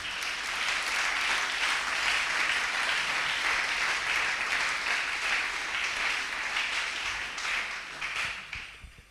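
A church congregation bursts into sustained applause to acclaim the Lord, dense clapping from many hands holding steady and full before thinning out and fading near the end.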